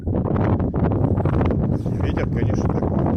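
Wind gusts strike the microphone outdoors by a stream during winter fieldwork, a constant heavy low buffeting rumble lasting the whole moment, with faint rustling over it.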